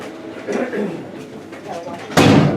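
Heavy door in a cave shut with a sudden broadband thud near the end, following a stretch of indistinct talk and shuffling.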